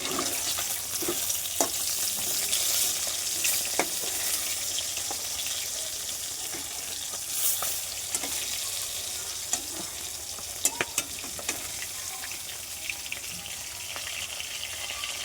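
Fish pieces frying in hot oil, a continuous loud crackling sizzle with scattered sharp pops and spatters throughout, close up and free of talk.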